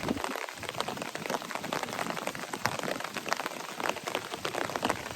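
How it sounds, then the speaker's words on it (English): Steady rain patters on an umbrella overhead on the Appalachian Trail, dense and continuous with many small drop hits, no talking. "it's raining again"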